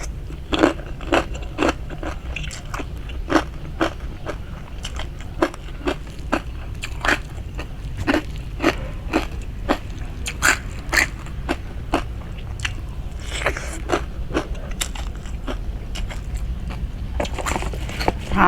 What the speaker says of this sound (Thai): แคบหมูพี่น้องกรอบกรอบหาม